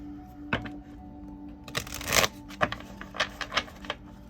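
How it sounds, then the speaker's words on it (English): Tarot cards shuffled close by, with irregular soft snaps and taps and a denser riffling burst in the middle, no talking. "So I'm going to finish shuffling here."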